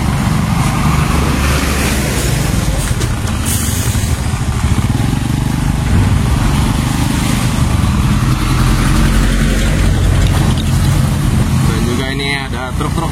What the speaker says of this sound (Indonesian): Ada truk-truk medium yang masih beroperasi teman-teman.